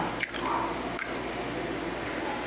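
Wet squishing of lumpia shanghai filling being mixed by hand with egg and cornstarch, a steady close squelching texture with a couple of sharper squishes.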